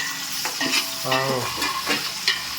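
Green chillies and spices fry in a pan while being stirred, a steady close sizzle broken by scraping spoon strokes and a few louder clatters, with no talking.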